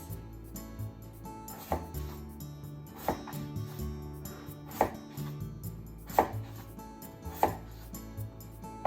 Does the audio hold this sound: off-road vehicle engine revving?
no